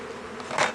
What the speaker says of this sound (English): I've seen bees swarm before, but I've never seen them return.